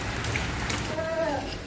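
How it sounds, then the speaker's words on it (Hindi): Heavy rain falling steadily, a dense continuous hiss throughout, with a faint voice briefly audible in the background. "देखो, बारिश।"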